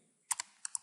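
Keys on a computer keyboard clack sharply in a short, uneven run of about five taps, close and fairly quiet, with no talk during the typing.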